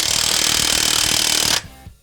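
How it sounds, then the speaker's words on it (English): Rapid hammering on a car's stock sway bar part, a dense run of metallic blows for about a second and a half before stopping abruptly, close and loud with no talk. "Then you can hammer down on it."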